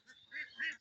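Ducks on a duck farm give two short, nasal quacks in quick succession, faint and fairly close.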